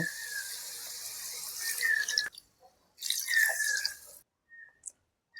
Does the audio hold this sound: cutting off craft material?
no